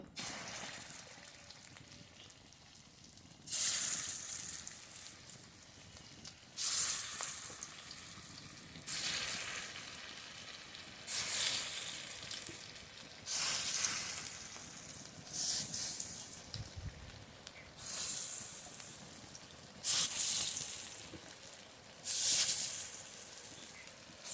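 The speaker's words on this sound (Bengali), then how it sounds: "সব বড়া দেওয়া হয়ে গেছে এবার খুব ভালো করে ভেজে নেব এই বড়াগুলো" Prawn fritters (bora) deep-fry in oil, giving a soft, steady sizzle that swells in regular bursts of bubbling hiss, fairly quiet and with no talk over it.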